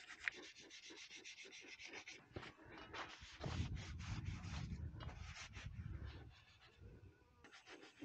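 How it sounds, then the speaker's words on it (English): Steady scrubbing and rubbing on a Massey Ferguson 231 tractor fuel tank, loosening gunk with cleaner; close, continuous strokes with a brief pause partway, no talk. "I'm going to be scrubbing all over the place just to get all the gunk loose"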